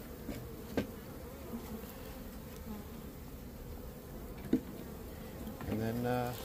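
Bees hum as a steady, soft swarm drone while collapsed honeycomb is moved during a bee rescue. Scattered clicks and knocks of handling sound close by, and a voice briefly speaks at the end.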